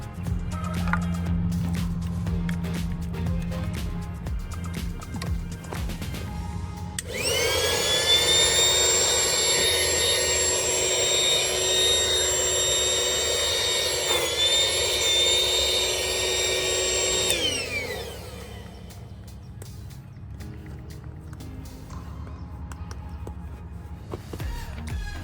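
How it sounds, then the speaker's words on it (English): An electric air pump sucks the remaining air out of an inflatable air mattress, giving a loud, steady, high-pitched whine that runs for about ten seconds and then cuts off, with a lower motor hum before and after. "Then, I use the air pump's top part to suck out any remaining air."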